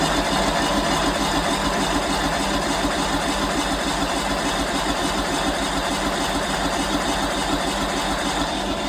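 Small gasoline engine on a Simplicity lawn tractor, cranked with full choke, a continuous loud mechanical drone with a fast, even pulsing rhythm that holds steady throughout, close and alone.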